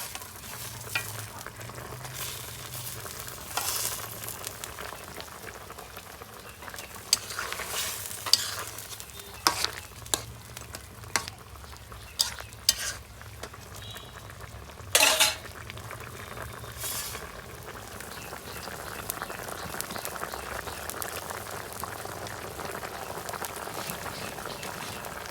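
Country chicken curry cooking in a pot, with steady sizzling and bubbling broken by repeated scraping stirs and a few sharp clanks of a utensil against the pot, close and moderately loud, no talking.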